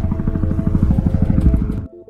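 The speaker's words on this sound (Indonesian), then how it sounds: "tiba-tiba terdengarlah suara helikopter" Helicopter rotor thumping rapidly and loudly nearby, a steady chopping pulse that cuts off abruptly near the end.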